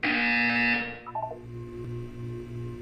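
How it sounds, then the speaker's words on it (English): In the game Portal 2, a loud, harsh electronic buzzer sounds for about a second, then cuts off, followed by a few short beeping tones and a low hum. "You will hear a buzzer."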